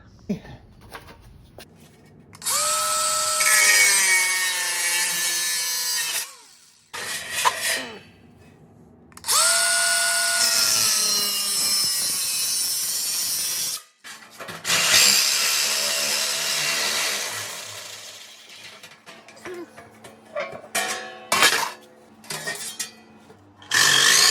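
A power tool grinds and cuts through an 18 gauge steel filing cabinet in several long, loud bursts with a high whine, separated by short pauses and lighter clanks of metal being handled.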